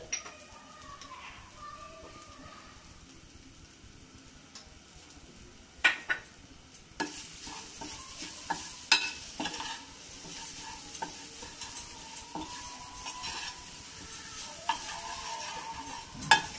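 A peas filling with sugar and turmeric is sautéed in a pan, with a quiet low sizzle broken by a run of sharp spoon scrapes and taps against the pan, close and with no talk.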